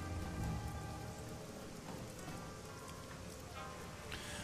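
Steady rain falls in the video game Shadowrun: Hong Kong, a dense, even patter continuing throughout at a soft level.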